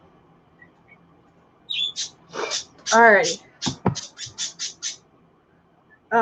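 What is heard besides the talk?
noisy birds chirping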